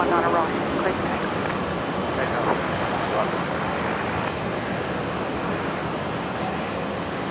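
A Virgin airliner on runway 19 right at Brisbane Airport makes a dense, continuous engine roar. It stays loud and even for the whole stretch.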